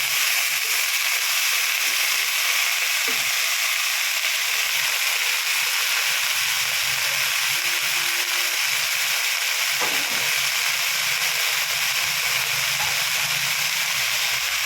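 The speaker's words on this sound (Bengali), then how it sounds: "কেটে রাখা সবজিটা অ্যাড করে দেবো। ভালো করে নাড়াচাড়া করে নেব।" Chopped vegetables fry in a pan with a steady, even sizzle and hiss throughout, broken by a few faint clinks and scrapes of stirring.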